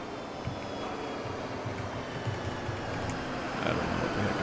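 Loud, steady engine drone of a Gillig Advantage city bus in Rigs of Rods, a continuous low rumble holding throughout with no talking.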